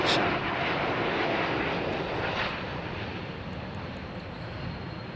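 A large airliner such as a Boeing 777 or Airbus A340-600 on approach to Heathrow runway 09L roars loudly and steadily, a broad engine rumble that eases slightly as it passes, with no talk.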